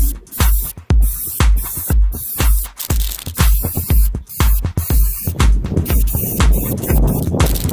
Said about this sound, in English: I'm going to take off those clamps and spray paint them black.